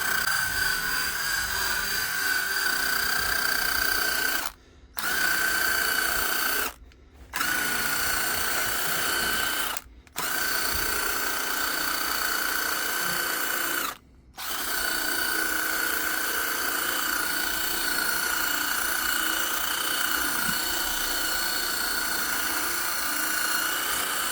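A Hitachi impact driver spinning a brush whirs continuously at a high steady pitch, running for long stretches and stopping briefly four times before running on again.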